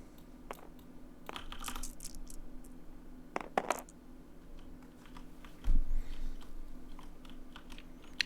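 Faint, brief plastic clicks and clatters of dice tumbling onto a tabletop during a Star Wars Destiny card game, scattered across an otherwise quiet room.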